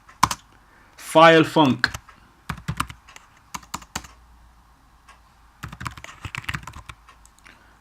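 Computer keyboard keys tapped while entering C++ code in Xcode, in short bursts of clicky strokes close by, broken up by a stretch of someone talking.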